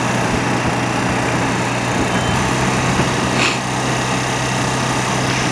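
A large tanker truck engine idles steadily nearby, a continuous rumbling drone with a high mechanical whine and no change in pace.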